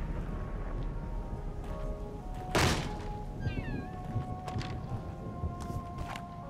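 A cat in the horror video game The Evil Within lets out a sudden meow amid dull thumps and low game ambience, with a sharp close thud near the middle and a few wavering cries after it.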